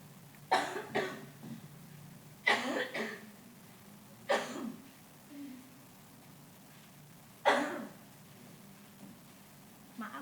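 A person coughs in four or five separate short bursts, some doubled, close up, with quiet breathing and pauses in between.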